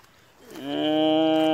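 A water buffalo in a large herd gives a single drawn-out low, rising from a soft start into a loud, steady, resonant call held for about a second, close by with no talk.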